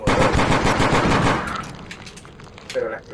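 Rapid burst of gunfire shooting an exploding spider in the VR video game Crashland, a loud dense rattle for about a second and a half that fades into quieter echoing noise.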